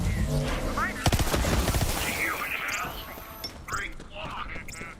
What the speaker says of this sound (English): Wait a minute, someone was still shooting.